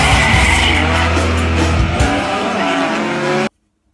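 A Nissan R33 drift car run by a motorsport team, its loud engine roaring with tire squeal and skidding, close and continuous for about three and a half seconds before cutting to silence.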